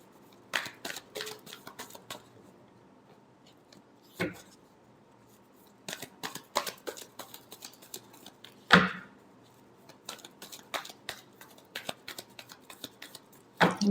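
Tarot cards shuffled by hand in quick, soft riffling bursts, with sharp slaps and taps scattered through a quiet room.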